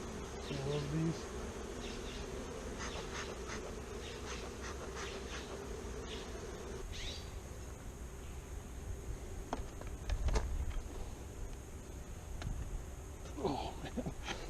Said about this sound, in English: So those bees.